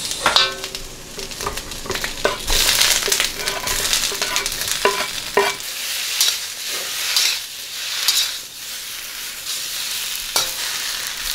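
Tomatoes are stirred into cooking onions in a pan, with a close sizzle and frying hiss broken by scraping stirs of a utensil, continuing through the whole stretch without speech.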